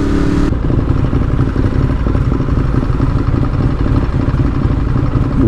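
Harley-Davidson motorcycle heard at close range, a loud continuous low engine rumble with a steady pulsing throb that holds for several seconds without speech.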